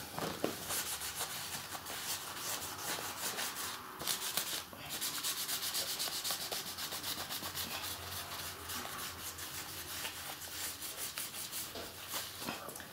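Acetone rubbed by hand onto an inflatable dinghy to lift pen marks: a continuous soft scrubbing and rasping, close and quiet, with a brief pause partway through.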